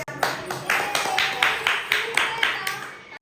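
A family claps together to encourage a small child dressed as Krishna at a home festival, about seven bright, rhythmic claps in a steady pulse, close and loud, with no talk over them.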